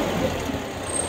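A Kubota engine with an intermittent hesitation runs with a steady, moderately loud drone, a slow rise in RPM with a low rumbling texture and no talking.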